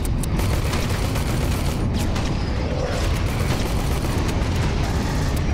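Dense, continuous rumbling blasts and mechanical clatter from grenade explosions in the sci-fi shooter Aliens: Colonial Marines, loud and sustained throughout with no clear gaps.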